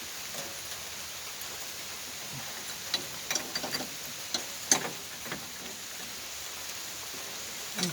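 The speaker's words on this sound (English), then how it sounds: "It's raining." Light rain falling at night beside an abandoned backhoe, a faint, even hiss broken by scattered soft ticks and drips at close range, with no voices.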